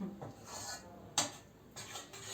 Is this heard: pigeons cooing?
no